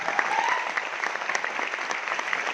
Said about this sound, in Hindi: तो मैं चाहूंगा सभी के लिए एक बार जोरदार ताली हो जाए।